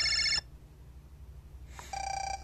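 An automated phone call ringing in the Mega Man Battle Network 6 video game, two short electronic ringtone bursts separated by a quiet gap, loud and clear with no voices.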